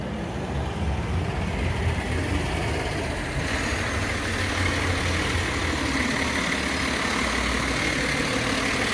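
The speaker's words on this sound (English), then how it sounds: "There was one of our noisy garbage trucks." A garbage truck engine idles nearby with a steady low rumble and diesel clatter, continuous throughout with faint street noise.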